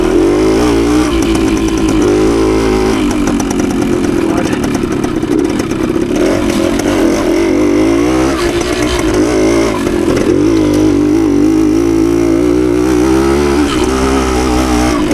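A 52-year-old Suzuki TS185 trail motorcycle runs steadily off-road, its engine droning continuously with clattering and scraping from rough trail ground, loud and close throughout the ride, with faint voice traces underneath.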